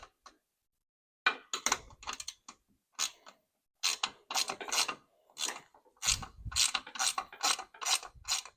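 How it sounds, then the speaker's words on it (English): A ratchet wrench tightens a bolt on a Can-Am Defender Vault enclosure, giving close, crisp bursts of rapid clicking separated by short pauses, with no talking. "I'm going to tighten that bolt up first."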